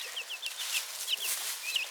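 A chicken gives a run of soft, high clucks and peeping calls, close by, repeated every fraction of a second over a quiet, airy background.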